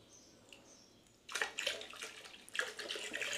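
Water from a fish tank holding dirty, waste-filled water is removed with a splashing, pouring rush that starts abruptly after a quiet second, then surges again near the end, close and fairly loud with no talking.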